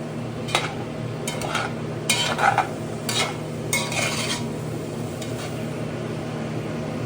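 A pan of caramelized bits for butternut squash soup is deglazed with acid and stirred, giving faint scraping and clinking strokes over a low steady hum, with no talk.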